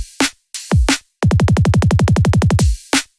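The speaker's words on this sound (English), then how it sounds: "at the end of this phrase, I've gone for a simple drum build-up." Simple drum build-up closing a phrase in a jump-up drum and bass track made in FL Studio: a few punchy kick and snare hits, then a fast, steady roll of about sixteen snare strikes ending on a final hit.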